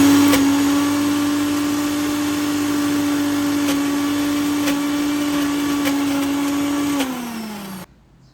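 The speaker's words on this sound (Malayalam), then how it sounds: "നമുക്കതൊന്ന് നന്നായിട്ട് അരച്ച്" Mixer grinder whirring steadily as it grinds a spice paste with vegetable oil for fried kilimeen fish, a loud continuous motor drone that winds down and cuts off near the end.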